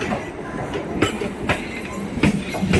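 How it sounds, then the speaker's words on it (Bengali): A train pulls in at a station platform on the Bardhaman to Asansol route, with rhythmic clacks and thumps of wheels over rail joints repeating roughly every half second amid a rumbling, moderately loud background. "এই সবে ট্রেন প্ল্যাটফর্মে দিচ্ছে"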